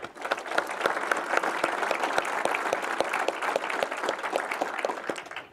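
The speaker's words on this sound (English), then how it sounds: "So please give them a round of applause." A crowd at a city's State of the City address applauding steadily, dense clapping at even loudness throughout, fading slightly at the end.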